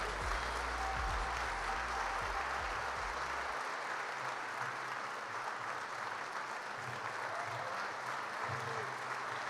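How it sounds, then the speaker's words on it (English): A crowd at an airport honoring ceremony claps in a thick, steady wash of applause that fills the whole stretch, with a low rumble underneath during the first few seconds. "Let's give her another round of applause."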